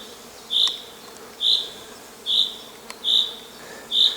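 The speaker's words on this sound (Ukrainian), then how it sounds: "спочатку подумав, що гудить десь рій. А ось і хрущ." Cockchafer (May beetle) buzzing near a tree, heard as five short, evenly spaced droning bursts roughly a second apart, fairly loud and close over a quiet background, with no talking.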